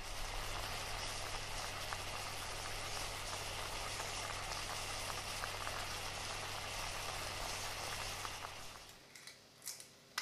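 Mushrooms frying in oil in a casserole on a stovetop, a steady loud sizzle and bubbling that holds for about eight seconds, then drops away as the heat is turned down, leaving faint clinks.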